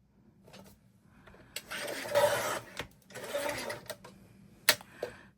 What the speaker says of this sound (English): I'm just going to bring up my trimmer and just trim off that bottom edge